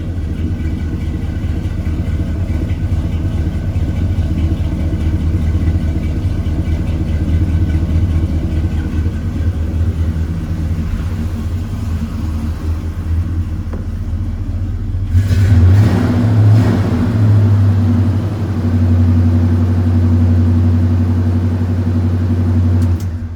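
A 1978 Chevrolet K20 Squarebody pickup truck's engine runs close by with a steady, deep idle rumble, then rises into a louder rev at around the midpoint before settling back to a strong, even idle.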